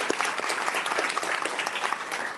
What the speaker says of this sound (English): So another big round of applause for Councilwoman Doris Matsui.